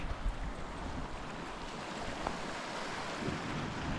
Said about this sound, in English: So this is the actual Dundee Beach, without the pub.